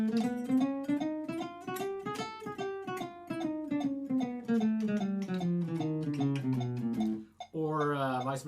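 Jazz guitar playing a picking exercise of alternating dotted eighth and sixteenth notes, a steady stream of bright plucked notes in an uneven long-short rhythm, close and clear, with a brief pause before a final phrase.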